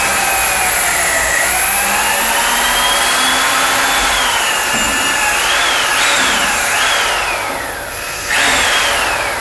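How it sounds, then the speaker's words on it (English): A power drill with a long 1/8-inch, six-inch bit bores through the inside of a golf club shaft, giving a loud, continuous whine whose pitch rises and dips as the bit works, briefly easing near the end before resuming. "I have an 1/8 inch, 6 inch long drill bit that comes with it"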